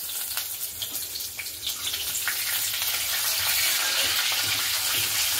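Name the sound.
five-spice tempering frying in hot oil in a wok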